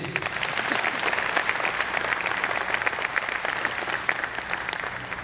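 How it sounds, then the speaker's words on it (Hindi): An audience at a distributor training programme applauds loudly and steadily, dense continuous clapping filling the whole stretch without a break. "एक बार खुद के लिए जबरदस्त ताली बजा दीजिए प्लीज"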